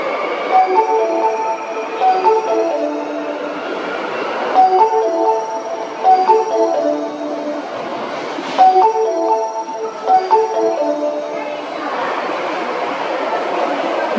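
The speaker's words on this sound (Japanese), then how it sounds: "2番線に茨城市行きが到着します。" A 1300 series local train bound for Ibaraki-shi pulls into platform 2 at Ebisucho station, a steady rolling rumble with tonal whines and hums that swells and eases over several passes, loud and close throughout.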